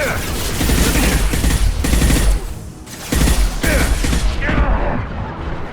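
Sustained automatic gunfire loaded with Inferno incendiary ammo in the video game Mass Effect 2, loud dense bursts with a brief lull midway, then more firing that tails off at the end.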